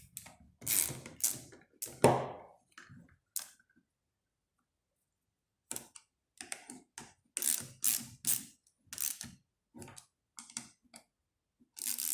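A bolt on a starter motor being tightened by hand, bursts of close ratcheting clicks separated by a long quiet pause, with no speech.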